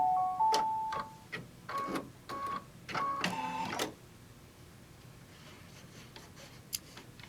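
An embroidery machine stitching a mug wrap in the hoop, a rapid mechanical whirring and ticking run for a few seconds, then a quieter stretch with faint handling clicks.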